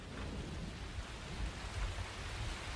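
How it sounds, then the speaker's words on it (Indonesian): Steady rain hisses alone, with low thunder rumbling and swelling underneath, fairly quiet throughout. "bukan hanya hujan, ada suara petir yang kencang"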